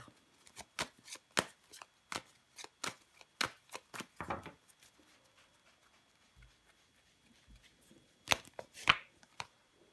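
Tarot cards are handled and slapped down one over another on a table, giving a quick series of sharp, close taps and flicks, then a pause with soft rustling and a few final snaps near the end, with no talk.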